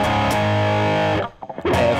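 Electric guitar chords ring out loud and heavily distorted, a thick sustained strum for over a second, a brief choked pause, then another crashing chord.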